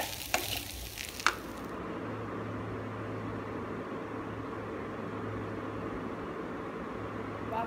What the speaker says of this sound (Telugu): బాగా కలిపేసుకున్నాం కదా